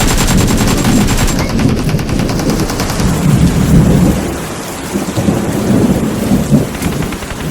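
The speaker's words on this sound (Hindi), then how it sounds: "मूसलाधार बारिश हो रही थी" Heavy, pouring rain mixed with deep rolling thunder forms a dense, loud, continuous storm sound effect that swells and fades slightly throughout, with no voices.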